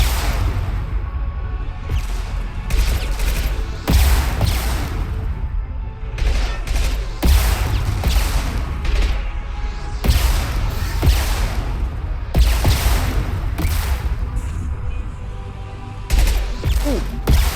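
Rocket and gunfire barrage in Mass Effect 2 on Insanity difficulty, repeated loud bursts and booms in close succession over a busy battle din, with no talk.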